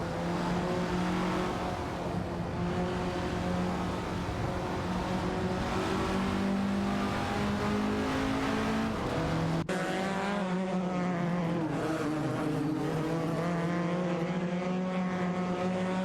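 Racing cars in a video game, a Porsche 904 and an Alpine A110 1800, battle closely, their engines droning loudly and continuously with shifting pitch and a sudden cut partway through.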